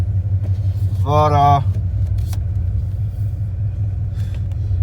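A 1995 Dodge Ram V8 truck with a welded Thrush exhaust driving on the highway: a steady, deep exhaust drone throughout, with a brief spoken word near the start.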